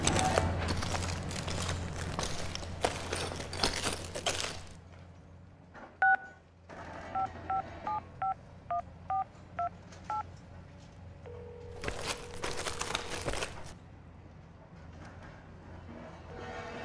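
Telephone keypad tones beep in a short spaced series during a phone call, faint beneath ambient rumble and bursts of noise from a busy setting.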